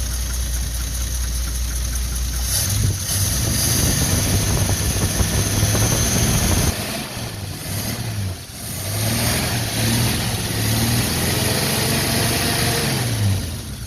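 An old car engine with no radiator and the water pump built onto the back of the generator idles close by, a steady loud low running sound that dips briefly near the middle.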